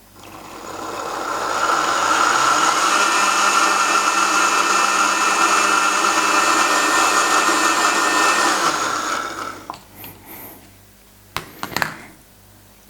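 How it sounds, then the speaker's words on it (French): An electric blender whirs steadily as it purées cooked carrots with their cooking liquid. A loud, high-pitched motor whine holds for about eight seconds, then winds down, followed by a few clinks and knocks of the jar. "Puis je mixe."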